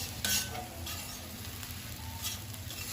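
Pieces of leftover chapati are stirred with ghee in a frying pan, giving a continuous close sizzle with quick scraping and clicking strokes of a spoon, and no talking.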